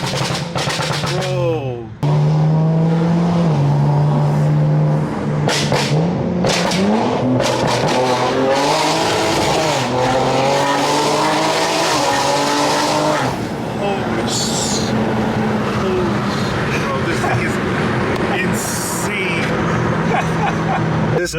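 A modified stage 2 car accelerates hard with popping exhaust and tire skids, loud and close, engine pitch sweeping up and down through repeated bursts while people talk excitedly over it.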